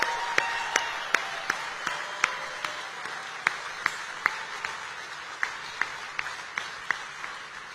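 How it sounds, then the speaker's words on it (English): Rally crowd in Glendale, Arizona applauding steadily for a guest invited to speak, a dense wash of clapping with sharp individual claps popping out at a regular beat, moderately distant. "Let's give Sarah a round of applause."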